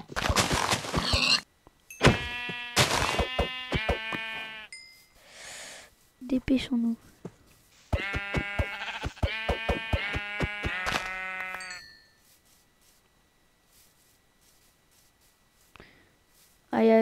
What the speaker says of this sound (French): Il y a des moutons là-bas.